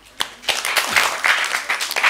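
A crowd at a Nepali dohori singing event bursts into loud applause for a donation, with dense clapping and a few sharper claps standing out.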